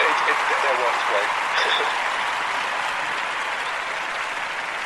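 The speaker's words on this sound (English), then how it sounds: "I think I want to give you a round of applause for that." A round of applause on a live community broadcast, with dense, even clapping from a group holding at a steady level and a few voices audible over it.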